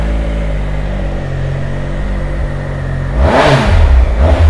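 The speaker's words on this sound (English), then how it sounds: "We'll give it a fire up because they do sound fantastic with them Arrow exhausts." A 2019 Triumph Speed Triple 1050 RS motorcycle with Arrow exhausts idles with a deep, even burble, then is revved sharply twice, the engine note rising and falling loudly up close.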